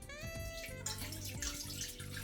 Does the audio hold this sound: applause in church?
no